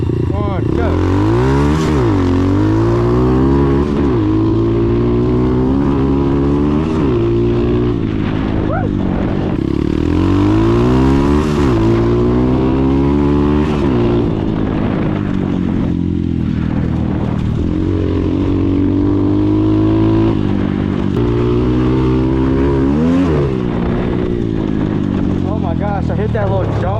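A dirtbike engine revs hard during repeated launches, the pitch climbing in rising sweeps, dropping off and climbing again, loud and close throughout, with a voice talking over it.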